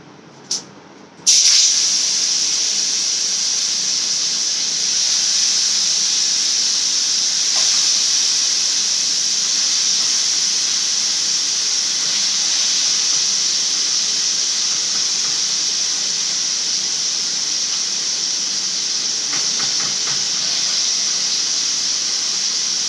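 Fish frying in hot oil, a steady loud hissing sizzle that starts abruptly after a brief clink and continues unbroken and close for over twenty seconds.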